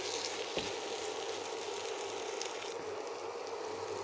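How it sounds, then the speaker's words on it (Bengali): Spice masala fries with dried fish in raw mustard oil, a faint, even sizzle with scattered crackles and a soft tap early on, quiet and without talk. "খুব ভালো মতো একদম লাল করে কষিয়ে নিব শুটকি মাছের সঙ্গে মশলাটা।"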